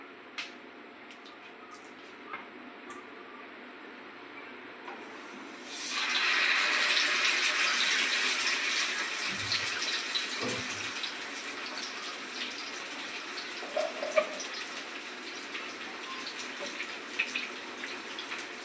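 Fish dropped into hot oil: after a quiet stretch, a loud, close sizzling hiss starts abruptly and holds steady, with a few clatters and bumps, and no voices.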